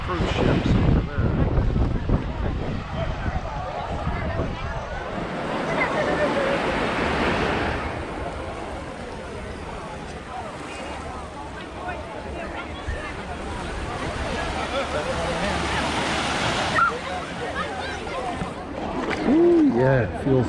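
Waves wash steadily onto Seven Mile Beach near Georgetown, Grand Cayman, with gusts of wind buffeting the microphone and people talking nearby over the surf.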